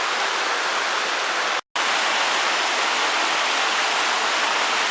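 Tall waterfall on a bush walk, a dense, steady hiss of falling water heard from a distance, broken by one brief dropout, with no voices.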